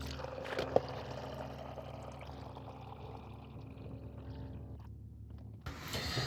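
Filtered water pours from a water filter pitcher into a cup with a soft, continuous trickle. It is quiet and close and stops abruptly near the end.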